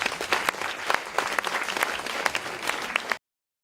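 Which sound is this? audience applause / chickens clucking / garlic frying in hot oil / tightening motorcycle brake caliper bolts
audience applause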